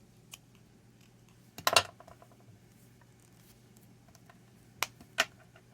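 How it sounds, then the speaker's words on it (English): Paper being trimmed for a handmade card makes a short close burst of cutting and rustling, then two faint clicks, all quiet with no talk. "let me trim this"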